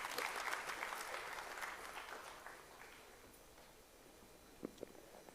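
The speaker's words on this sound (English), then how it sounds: "Please give him a huge round of applause." Audience applause at a formal ceremony, a broad crowd clapping that starts full and loud, then gradually thins and fades toward the end with a few last scattered claps.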